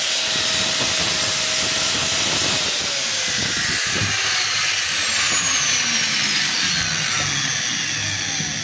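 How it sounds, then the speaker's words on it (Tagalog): A DeWalt DWE8200S 4-inch angle grinder with short carbon brushes whines loudly and continuously, its motor pitch dropping and surging as it runs unevenly, with harsh high-frequency hiss throughout and no talking. "So gumana siya mga kabay, kaso lang pahinto-hinto yung andar niya, hindi siya dire-diretso."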